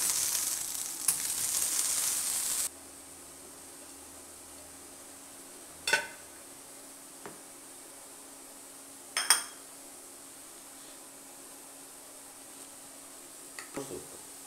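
Green chillies fry in a pan for a chutney, giving a loud, steady close sizzle for the first few seconds. The sizzle then cuts off, leaving a quiet room with a few sharp utensil clinks and taps.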